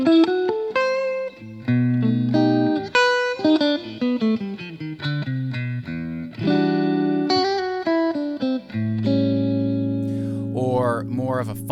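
A clean, undistorted electric guitar plays a jazz-style passage of chords and single notes, each clearly sustained and ringing close and alone with no talking.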